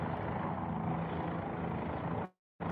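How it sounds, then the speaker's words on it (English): A steady, loud mechanical roar of a helicopter engine and rotor, continuous for a couple of seconds before cutting off abruptly. "sounds like the helicopter is going to take off again"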